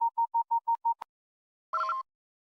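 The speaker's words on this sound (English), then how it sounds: "are the Battlefront 1 loading screen sounds." A short series of six even electronic beeps, a sharp click, then after a pause one longer buzzy tone, crisp and isolated: the loading screen sounds of the original 2004 Star Wars Battlefront video game.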